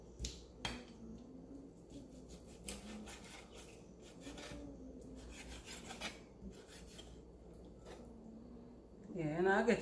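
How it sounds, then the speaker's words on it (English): A knife scrapes and saws through raw oxtail, trimming away fat in short rasping strokes near the microphone, with a voice talking quietly over the cutting. "I'm just cutting off some of the fat them"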